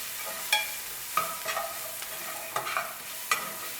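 Chopped garlic frying in a pan for carne adovada, a soft continuous sizzle punctuated by five or so distinct scraping strokes of a utensil, close and with no talk.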